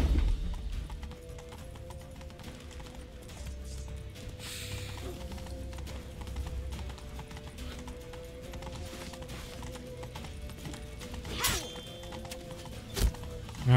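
A horse in The Witcher 3 gallops with steady, rapid hoofbeats under a low rumble of ambient noise, with a few louder thumps and clatters near the end.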